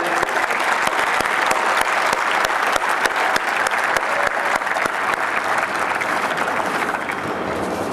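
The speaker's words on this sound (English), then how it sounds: "can we have a clap?" An audience at an Ahmedabad Management Association event claps in loud, sustained applause that continues steadily throughout and tapers slightly near the end.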